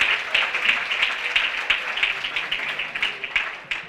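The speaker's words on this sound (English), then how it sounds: "Clap for yourselves because you all are fantastic." Audience applause at an awards ceremony, a dense sustained clapping from many hands in a room, moderately loud and steady throughout without speech.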